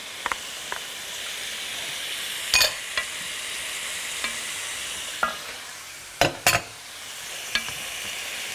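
Pepper slices sizzle and fry in a pan with kidneys and hearts, a steady crackling hiss broken by several sharp clanks of stirring, close and fairly loud, with no talking.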